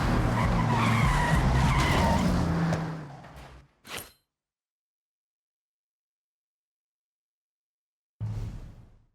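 A car in the Forza Horizon 6 racing game skids hard to a stop with a loud tire-scraping slide that fades out, a brief whoosh, then silence before engine noise cuts back in.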